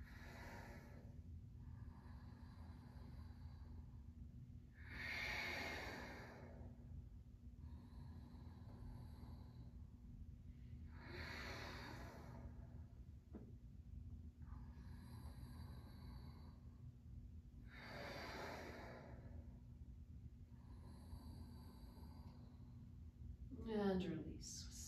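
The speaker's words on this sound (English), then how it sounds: "Deep breathing, Ujjayi." Deep Ujjayi yoga breathing in a slow, even rhythm, each long breath rising and falling as a soft breathy hiss about every four seconds, quiet and close, ending with a brief voice.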